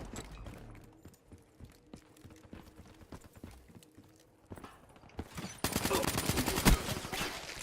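Gunfire from Black Ops 3 multiplayer, shooting underwater: rapid, evenly spaced clicky shots over a faint game-sound bed, then a denser, louder, muffled roar of noise and blasts in the final seconds.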